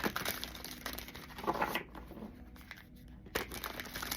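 A thick-carded Witches' Wisdom tarot deck being shuffled by hand gives close, soft riffling and card-on-card slapping, with a quieter pause in the middle before a short burst of shuffling returns.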